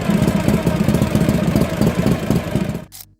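The engine of a 1962 Harley-Davidson FLH Duo Glide motorcycle runs with a loud, lumpy, pulsing rumble that continues steadily and then cuts off abruptly near the end.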